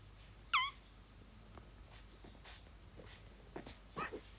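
A Minecraft dog's high, thin whimpers, one clear squeal early and a couple of softer whines later, amid quiet scuffing and light taps.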